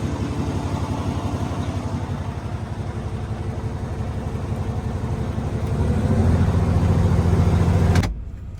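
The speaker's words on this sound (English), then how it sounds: "the big W900 warms up" A Kenworth W900 truck's diesel engine warming up on a cold night at 27 degrees, a steady close idle rumble that swells louder near the end and then cuts off abruptly, with no talking.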